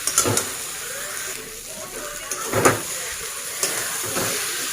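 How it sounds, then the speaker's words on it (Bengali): Eggs and moong dal being gently sautéed in a pan for a Bengali mung tarka: soft sizzling and hiss with a few brief scraping stirs, fairly close and moderate in level, no talking. "খুব সাবধানে হালকা হালকা করে কষাচ্ছি যাতে এটা ভেঙে না যায়"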